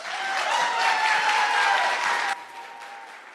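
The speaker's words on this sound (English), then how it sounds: "Give them all another round of applause." Loud applause from the audience at a school oratorical competition after a student's speech, a full burst of crowd clapping that cuts down sharply to a softer patter near the end.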